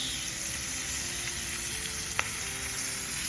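Frog legs frying in a pan, a steady, close hissing sizzle with a faint pop partway through, continuous and without talk.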